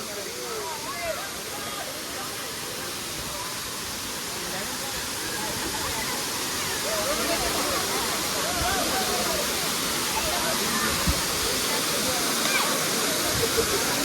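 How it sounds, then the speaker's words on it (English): Areekkal waterfall in Kerala cascading close by, a steady, loud, broadband roar of falling water filling the whole stretch without pause. "Close enough to feel the mist on your face, far enough to see the whole cascade in one breath."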